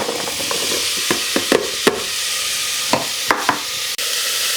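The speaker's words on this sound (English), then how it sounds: "So you need to keep stirring the onions and green peppers from time to time to make sure they don't burn." Onions and green peppers sizzle steadily in a pan for green tomato soup, with a spoon scraping and clacking in a series of sharp strokes as the vegetables are stirred.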